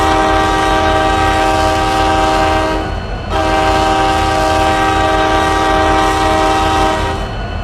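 A loud, sustained commuter locomotive horn in the train game RO Scale Sandbox blares close by, a chord held for about three seconds, breaks briefly, then sounds again for several more seconds.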